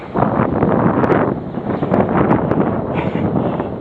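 Outdoor wind buffeting a microphone, making a steady, rumbling roar with brief swells that lasts a few seconds, with no voices.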